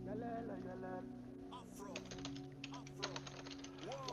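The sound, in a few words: typing on computer keyboard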